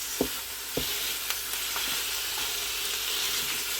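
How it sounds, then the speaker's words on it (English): Steady hot-pan sizzle of minced beef frying in a Ninja 15-in-1 cooker, with a few sharp clinks of a utensil near the start; no talking. "now I'm just going to tip in the mince. You can hear that is hot."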